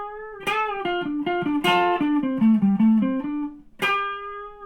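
An electric guitar plays the solo from a song, a melodic line of sustained, bending notes with a few sharp plucked attacks, clear and close with no talking.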